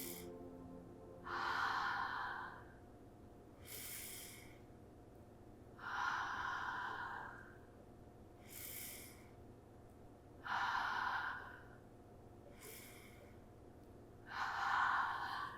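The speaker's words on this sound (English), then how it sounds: "breathing in and out." Slow, deep breaths during a beginner floor stretch, each inhale and exhale drawn out and close, repeating steadily over about four cycles with quiet room tone between them.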